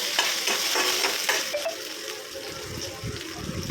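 Curry leaves and mustard seeds frying in hot oil give a steady close sizzle with stirring scrapes, bursts of crackle standing out midway, no one talking.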